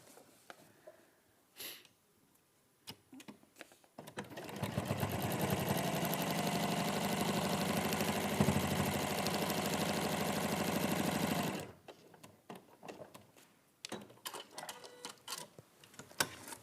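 A sewing machine stitching patchwork pieces runs in one steady, fast mechanical whir for about eight seconds, with quieter handling and rustling of fabric before and after.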